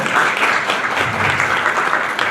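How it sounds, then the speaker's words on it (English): Conference audience breaking into a round of applause, a dense steady clatter of many hands clapping that fills the whole moment at close, even loudness. "please give him a round of applause"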